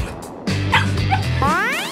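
A small dog yips and whimpers in short bursts, a few high excited barks close by, with a rising whine near the end.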